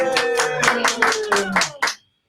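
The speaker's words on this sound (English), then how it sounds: "Give him a round of applause." Applause from a studio audience greeting a guest being introduced, a short burst of clapping about two seconds long that cuts off abruptly at the end.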